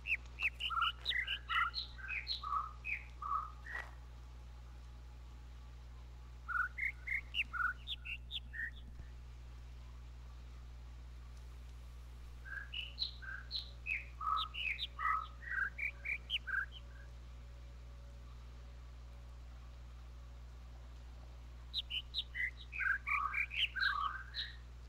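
Shrill bird calls from The Witness video game come in three bursts of rapid, bright chirping trills separated by quiet pauses, all over a constant low background hum.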